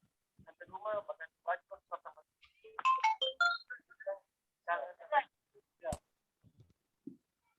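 A short telephone ringtone sounds among chatter at a high school alumni meeting, with several people talking over and around it at moderate loudness.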